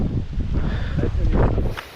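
Wind gusting across a hilltop on the Thoppaiyasamy hill trek near Dindigul, a rough buffeting rush against the microphone that swells and fades, with faint rustling and no talk.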